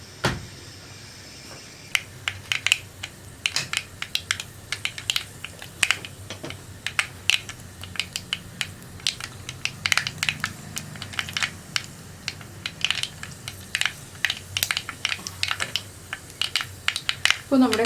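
Mustard seeds pop in hot coconut oil, a scattered run of sharp, crisp crackles and ticks coming irregularly over a quiet background.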